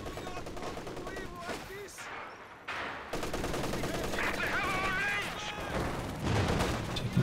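An MG34 machine gun rattles in sustained rapid bursts in Company of Heroes 2, mixed with other battlefield gunfire and a short lull, while a commentator talks over the shooting.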